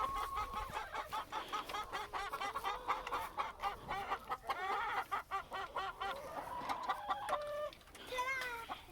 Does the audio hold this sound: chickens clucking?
yes